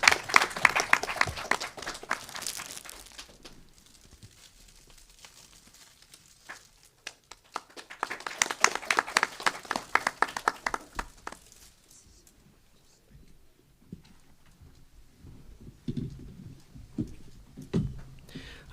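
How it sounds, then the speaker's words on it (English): Scattered clapping from a small crowd at a state-level youth parliament in Meghalaya, in two bursts, fading between them, with quieter shuffling and murmurs toward the end. "Please give a big round of applause."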